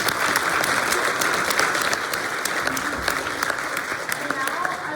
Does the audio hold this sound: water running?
no